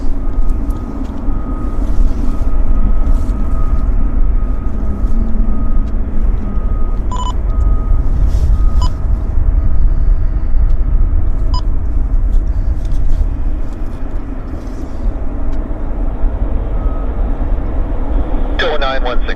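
An airliner rolls down the runway for takeoff at Vancouver airport, a loud steady engine roar and rumble that fills the whole stretch with a brief radio-like chirp near the end, while people talk over it.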